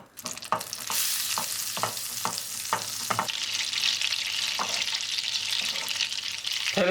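Butter sizzling in a copper pan for a quick breakfast dish with sucuk and tomato paste, a bright continuous frying hiss with several sharp utensil knocks and stirring scrapes early on, close and fairly loud, no talking.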